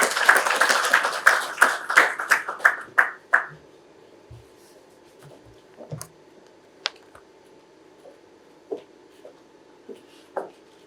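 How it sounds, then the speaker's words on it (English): Audience at a launch event in a Kenyan hotel claps in a brisk burst that quickly tapers off into scattered, isolated claps and small knocks. "Round of applause, please."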